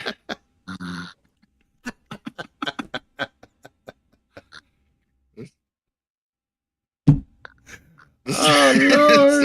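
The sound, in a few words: someone snoring while asleep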